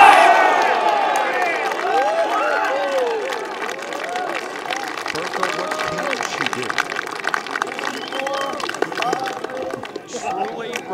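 A golf gallery at a U.S. Women's Amateur final at Chambers Bay cheers and claps for a shot, a sustained crowd roar with whoops, while commentators talk over it.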